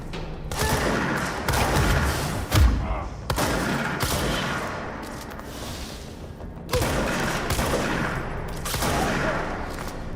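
Sustained gunfire from the video game Control: dense, rapid bursts of shots with booming impacts, loud and continuous for several seconds, pausing briefly before resuming, with no talking.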